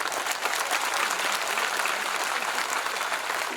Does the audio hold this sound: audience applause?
yes